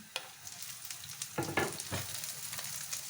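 Garlic frying in oil for pinakbet makes a soft, continuous sizzle with a few sharper sputters and stirring scrapes in the middle, heard close but fairly quiet.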